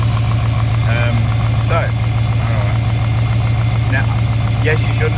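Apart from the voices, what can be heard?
cold V8 car engine running and throttle revved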